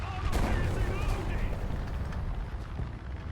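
A tank gun fires in a World War II tank video game featuring a Panzer and a Sherman Firefly, a loud booming blast with rumbling low-end decay that fills the clip, with a voice talking over it.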